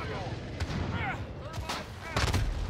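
Gunfire in the shooter Call of Duty: Modern Warfare, with sharp bursts of shots at moderate distance over a busy game mix, the loudest cluster near the end.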